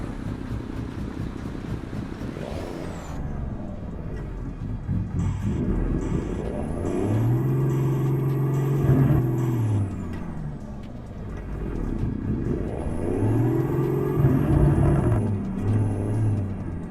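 A simulated Cummins diesel truck engine in Euro Truck Simulator 2 rumbles and revs in repeated rising and falling swells, with air brake hisses and high whines over a steady mechanical drone.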